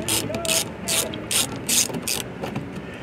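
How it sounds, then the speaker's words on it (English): A ratchet with an 8mm socket clicks in quick bursts while backing out factory screws, five or six sharp ratcheting runs separated by short pauses, close and fairly quiet. "we're going to be using a 8mm socket, removing the 2 factory screws that are dead center"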